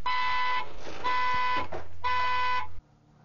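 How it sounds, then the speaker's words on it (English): A car alarm sounding outside in repeated bursts of electronic, buzzing tones with short gaps between, fairly loud, then cutting off abruptly near the end. "Somebody's car alarm is going off out there."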